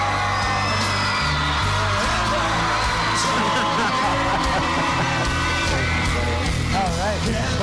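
A large outdoor crowd on a plaza cheers and whoops continuously, loud and sustained, with people talking over the noise.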